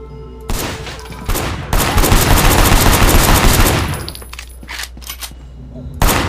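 Sustained burst of gunfire in the video game Sleeping Dogs, a dense loud fusillade of rapid shots for a few seconds, preceded and followed by scattered single reports.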